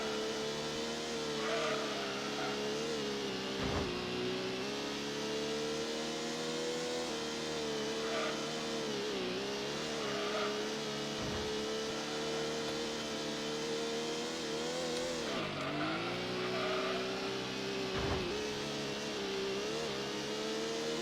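Racing cars in Gran Turismo, including a Mazda RX-7, give a steady, loud engine drone with shifting pitch and brief dips as the engines rev and change gear, running continuously without talk.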